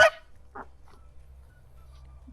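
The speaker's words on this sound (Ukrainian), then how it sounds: "Наша гусочка молоденька." A young Kholmogory goose gives a short honk, then a few faint, soft calls follow over a quiet low hum.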